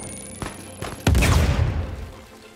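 Gunfire in the video game Uncharted 4: a few sharp, separate shots followed by a heavy, loud blast that rolls into a long, fading rumble, with no talking over it.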